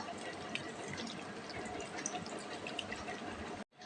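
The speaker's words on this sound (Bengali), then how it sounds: "এর মধ্যে দিয়ে দিচ্ছি পরিমাণ মতন জল।" Water poured from a vessel onto scooped-out wood apple (bael) pulp in a kitchen bowl, a steady close splashing trickle lasting several seconds before stopping abruptly.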